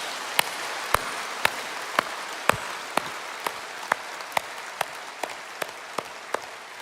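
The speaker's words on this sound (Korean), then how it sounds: "우리 감사의 박수 올려드리겠습니다." Sharp, evenly spaced claps from a church congregation ring out one after another at a steady, slow beat, about two per second, over quiet background hiss.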